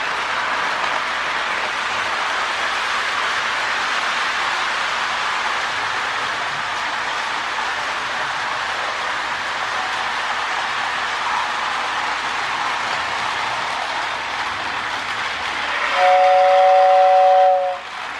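A Lionel model train runs with a repaired K-Line S2 whistle tender, giving a steady loud rolling rumble that ends in a short, two-toned steam-style whistle blast.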